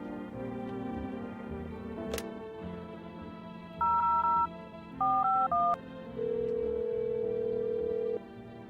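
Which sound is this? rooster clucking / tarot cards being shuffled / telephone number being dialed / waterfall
telephone number being dialed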